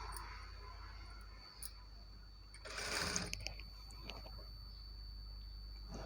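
A domestic sewing machine stitching the side slits of a lined Punjabi dress, a faint rapid ticking run of stitches with a brief louder burst midway, close and quiet.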